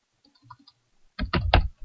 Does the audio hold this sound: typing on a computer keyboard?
yes